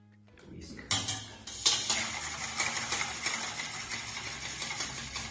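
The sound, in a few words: whisking cream in a bowl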